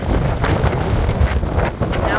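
High winds battering a homestead, a steady roaring gust that hits the microphone hard, loud and close throughout with no break.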